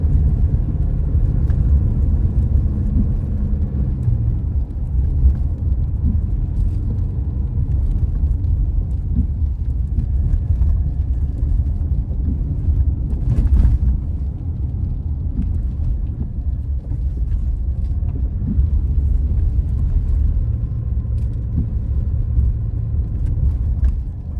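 A car driving through Bancroft, Ontario, heard from inside as a steady, loud low engine and road rumble that continues evenly throughout.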